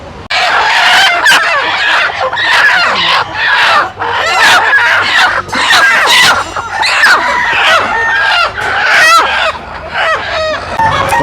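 A crowd of country (nati) chickens clucks and squawks loudly and close by, with overlapping cries and crowing in dense bursts that run throughout.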